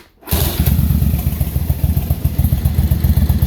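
A Yamaha Virago 920 motorcycle engine idles loud and close during carburetor synchronization, a steady throbbing rumble that starts abruptly after a brief silence, with slight uneven pulsing and no talk.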